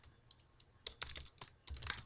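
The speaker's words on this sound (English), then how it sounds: "I might even type in here" Fingers tap on a computer keyboard in short uneven clusters of quiet, close key clicks with no talking.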